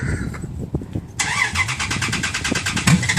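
A Dodge Ram truck cold-starts after a struggling attempt: quiet cranking clicks, then the engine catches abruptly and settles into a loud, steady, throbbing idle up close.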